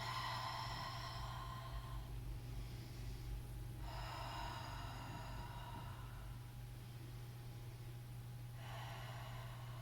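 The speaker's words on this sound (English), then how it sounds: "Deep inhales through your nose. Exhales through your mouth." A person in child's pose during a yoga core workout breathes deeply, drawing air in through the nose and releasing it through the mouth. Three long, airy breaths sound close, with pauses between them, over a steady low hum.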